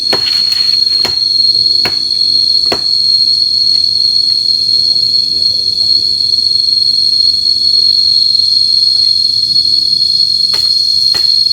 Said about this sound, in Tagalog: Kuliglig